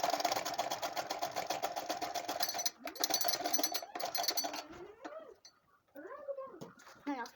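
A sewing machine runs a steady straight stitch on a tote bag for a few seconds, then stops in short bursts as a voice talks over the quieter end.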